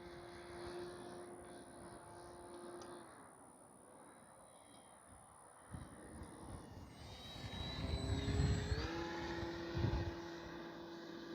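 FMS Ranger 1220mm RC plane in flight, its propeller and electric motor droning steadily from a distance and rising in pitch as it passes closer, with a slight vibration in the prop.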